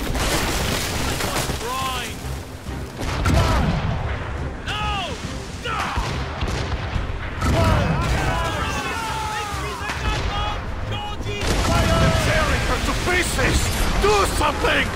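Naval ship cannons in Assassin's Creed Rogue boom in repeated heavy volleys and scattered blasts, loud and close, while game characters shout orders and cries over the barrage.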